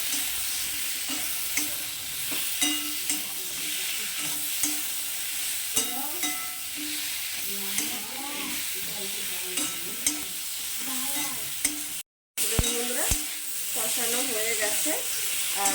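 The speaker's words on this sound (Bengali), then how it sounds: "এটাকে এখন খুব ভালো করে এখন একটু কষিয়ে নেবো" Spices with chili powder and salt are sautéed in oil in a pan for a rohu fish curry with green banana and potato: continuous sizzling frying under repeated scraping spatula strokes, with one brief dropout near the end.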